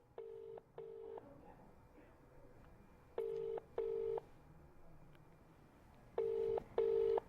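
Outgoing call ringback tone on a telephone: three pairs of short, even electronic tone bursts, spaced about three seconds apart, heard fairly clearly over faint background hiss.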